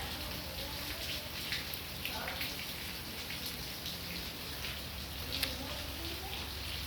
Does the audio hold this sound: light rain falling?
yes